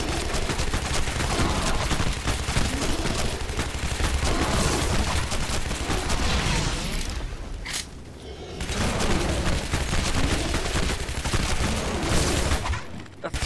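Rapid, sustained gunfire from the 2013 video game Shadow Warrior, a dense barrage of shots and booms filling the scene, with a brief lull partway through before the firing resumes.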